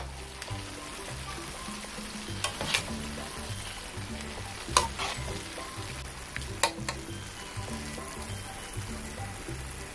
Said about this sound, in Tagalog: Tapos hahaluin lang natin.